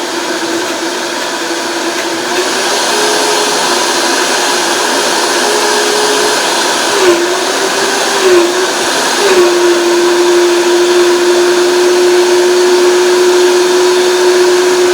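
A blender whirs steadily while blending a vegan cream cheese mixture for vegetable wraps. The motor drone is loud and continuous and rises in pitch partway through as the mixture loosens. No one speaks.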